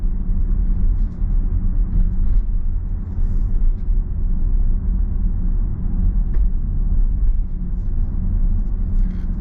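Steady low road rumble and tyre noise inside a Range Rover Sport SVR with air suspension, driving over a very uneven road surface; a continuous, even drone with faint small thumps and no talking.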